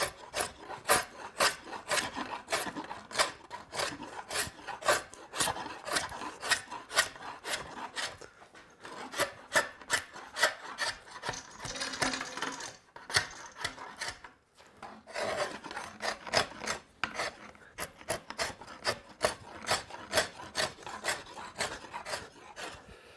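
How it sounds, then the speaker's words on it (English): Wood rasp filing down a wooden recurve bow limb to an even taper, a steady run of quick, close rasping strokes with brief pauses between passes, loud and alone. "A rasp is helpful for getting right down to your lines and resulting in a limb that has a nice, even taper."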